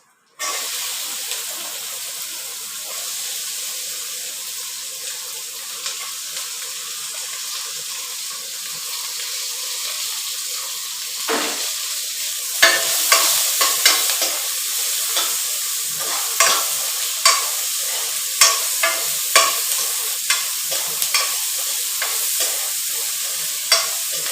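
Goat spleen and onions fry in oil in a pan, giving a steady close sizzle and hiss throughout. In the second half, repeated scraping stirs and sharp utensil taps recur every second or two, with no talking.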